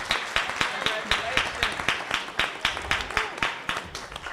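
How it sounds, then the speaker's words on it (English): Audience applause at a school board meeting: a room of people clapping steadily, individual claps sharp and rhythmic at moderate distance, with a few voices mixed in beneath. "Let's give them another round of applause."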